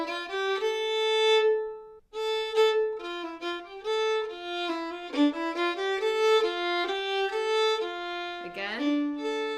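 Melodic phrase from the English country dance tune Nonesuch, played on a sustained-tone instrument, with a run of eighth notes climbing to an open A; clear stepwise notes with a brief scraping moment near the end, played alone.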